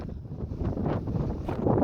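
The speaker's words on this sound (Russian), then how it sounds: "Снова ветер." Wind buffeting a microphone while cycling on a road in Colombia, a steady low rumbling roar that swells and gusts throughout, fairly close and continuous with no talk.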